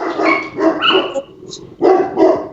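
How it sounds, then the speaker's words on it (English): A dog barks in a rapid run of loud, close woofs, pauses briefly, then lets out two more sharp barks. "Our dog. Sorry, our dog."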